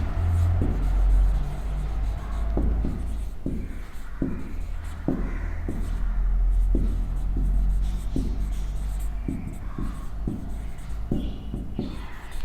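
Hand writing during a fifth-grade math lesson, a series of short scratchy strokes and taps in irregular rhythm, close and clear over a low background hum.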